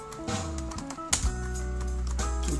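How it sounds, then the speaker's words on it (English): A computer keyboard types a file name while saving a CorelDraw file, with a few quick key clicks set against a steady low hum. "So this place, you type your name."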